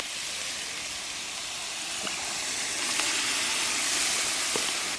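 Broth poured onto grilled meat over a fire, a broad steamy hiss and sizzle that swells gradually and stays loud and close, with a few faint clicks.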